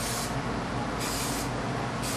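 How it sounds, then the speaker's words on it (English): Clippercide disinfectant lubricant hisses from an aerosol can onto a clipper blade in three short, close bursts, steady and bright, with no talk. "Now spray that blade down."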